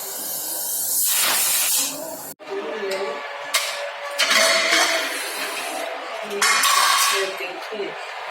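A pressure cooker cooking yam vents steam in loud, rushing hisses, one long burst followed by several shorter releases, with occasional metallic clinks and a voice speaking in between.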